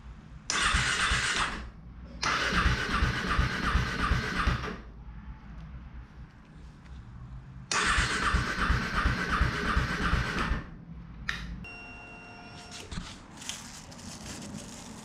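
A KTM 390 motorcycle engine cranking and struggling to start during a coolant change, with several long bursts of churning starter and engine noise separated by pauses, close and fairly loud.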